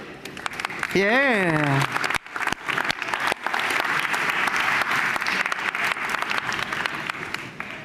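Livestream stage audience clapping and cheering after a performance, dense applause filling most of the clip with a brief sung or whooping vocal near the start and scattered voices within.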